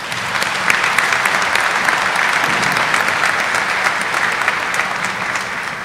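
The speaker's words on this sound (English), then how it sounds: "Won't you join me in giving them a warm round of applause?" A large audience at a winter university commencement ceremony claps in steady, dense applause that holds at an even level for the whole stretch, with no voices above it.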